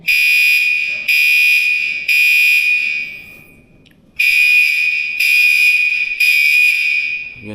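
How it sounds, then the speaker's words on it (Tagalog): A shrill, piercing smoke alarm in an office restroom, set off by vaping, blares in long repeated beeps, close and loud, with a brief pause midway before the pattern resumes. "Feeling ko may nag-vape dito sa may CR kaya nag-a-alarm ko."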